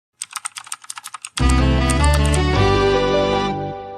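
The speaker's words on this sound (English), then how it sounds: "Who's that typing in the comments?" Rapid keystrokes clatter on a computer keyboard, about a dozen quick taps in an uneven rhythm, then a loud sustained musical tone swells up and fades near the end.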